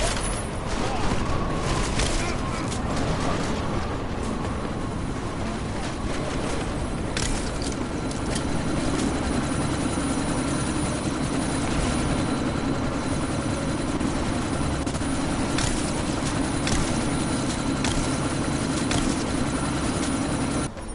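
A helicopter in the video game Deus Ex: Mankind Divided, heard as a steady, loud rotor and engine drone with chopping texture, held continuously under what sounds like gunfire and a sandstorm.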